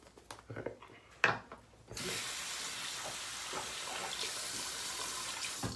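Tap water runs in a steady, close hiss onto a shaving brush at a sink, starting abruptly after a few soft handling knocks and continuing loud and even to the end.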